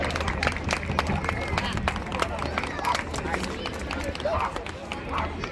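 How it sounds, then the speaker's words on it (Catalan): A crowd applauds strongly as giant festival figures enter the town square at a giants' gathering in Súria. The steady clapping blends with a dense background murmur and continues throughout. "Un fort aplaudiment mentre van entrar a la plaça també."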